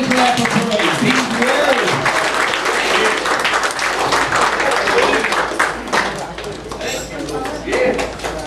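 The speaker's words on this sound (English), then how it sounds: "Give him a big hand clap of praise." A church congregation claps in praise during a worship service, loud dense clapping with voices calling out over it, easing slightly near the end.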